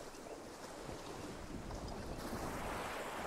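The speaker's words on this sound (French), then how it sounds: "Ton perso, il nage à la surface" A character swims at the surface of the water in the video game Arma Reforger, a steady wash of sloshing water and wind-like noise that stays at an even level with no voices.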